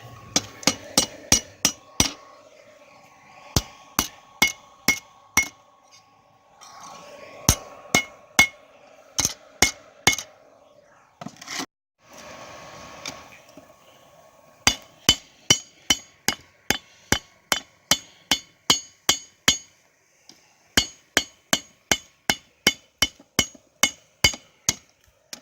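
Small hammer striking metal at a forge: bright, ringing taps in bursts of rapid strikes separated by short pauses, close and clear, with faint background activity between the runs.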